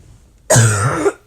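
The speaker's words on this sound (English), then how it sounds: "Sorry, had to clear my throat then." A single short, harsh throat clearing close to the microphone, lasting about half a second against near silence.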